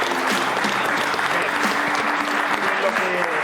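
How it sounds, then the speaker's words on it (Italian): Applause for Mariano Torre at a sports-ground gathering, steady crowd clapping throughout with voices and a tonal hum running underneath. "Facciamo un applauso a Mariano."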